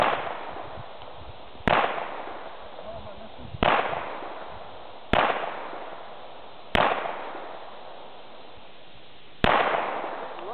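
Five sharp gunshots crack out at a shooting range during speed shooting practice, spaced about one and a half to two seconds apart, each followed by a brief echoing tail.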